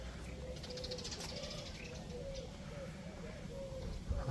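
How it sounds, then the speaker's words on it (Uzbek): Pigeons or doves near a small fortress give soft, repeated cooing calls in a steady rhythm, faint and somewhat distant against low background noise. "qushlar mazza qilyapti"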